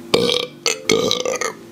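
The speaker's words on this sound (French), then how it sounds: "Attends, j'ai envie de roter." A man lets out a loud, close belch in three rasping bursts with brief gaps between them, alone with no talk.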